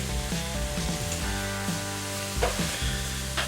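Garlic sizzling in the hot preheated pot of an Instant Pot while being stirred for chili, a steady close frying hiss with a few scraping stir sounds mixed in.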